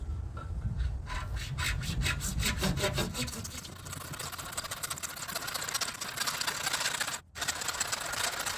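Hand saw cutting off the end of a homemade cannon part, with steady back-and-forth rasping strokes, close and fairly loud, that run for several seconds and trail into continued grinding friction.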